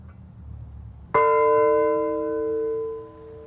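A large bell rung by pulling its chain gives a single loud, close strike followed by a long, bright ringing tone that slowly decays over several seconds.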